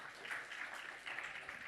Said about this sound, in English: let's have a huge round of applause for Ariel here